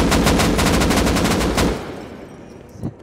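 Rapid automatic gunfire in a video game, loud and sustained bursts for about a second and a half, then fading to quieter background noise with a short thump near the end.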